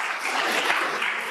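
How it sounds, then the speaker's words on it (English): Brief audience applause after a talk at a data presentation event, a dense, even patter of many hands clapping, steady and moderately loud, with no speech over it. "All right, round of applause."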